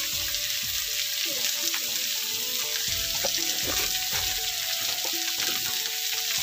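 Vegetables with onion, salt, chilli powder, cumin and turmeric frying in hot oil, with a continuous close sizzle and frequent stirring clatter in the pan.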